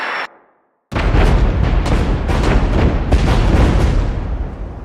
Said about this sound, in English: you can see now that the artillery came, which is great, right?